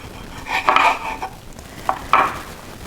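A kitchen knife slices through a tomato for seed saving, giving a couple of short, close crisp cuts and scrapes against a board, with a pause between them and no voices.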